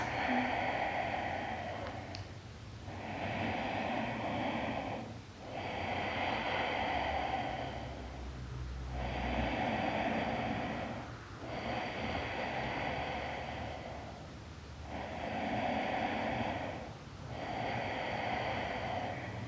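Slow, deep breaths during a gentle yoga class: repeated broad whooshing inhales and exhales, about six cycles with short pauses between, fairly close and steady, with no talking.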